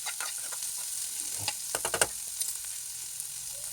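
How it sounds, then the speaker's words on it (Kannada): Finely chopped onions and curry leaves fry in hot oil for a bendekayi palya, a close steady sizzle broken by a few soft stirring scrapes and pops in the middle. "ಚೆನ್ನಾಗಿ ಫ್ರೈ ಆಗಲಿ."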